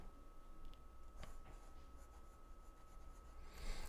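A fountain pen with a small, precise nib glides quickly across paper, giving a faint, steady scratchy rustle with a few light ticks and no voices.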